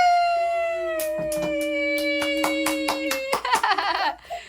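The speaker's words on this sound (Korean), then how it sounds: "박수!" Hands clap in a quick, steady run of about eight beats at a father's birthday party at home, over a sustained tone, then give way to a burst of laughter and cheering.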